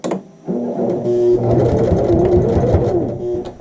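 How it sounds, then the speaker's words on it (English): Sewing machine back stitching at the end of a flat felled seam, a close, loud, steady mechanical whir after a short quiet start, running without pause and with no talking. "Coming towards the end, and we're going to do a back stitch."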